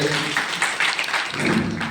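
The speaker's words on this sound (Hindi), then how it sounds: "तो एक बार विनोद सर के लिए जोरदार ताली हो" Loud, dense applause from an audience at an RCM achievers' gathering in Masaurhi, honouring Vinod sir, with rapid overlapping claps sustained throughout.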